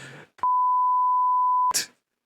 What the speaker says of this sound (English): Actually, I'm beeping that.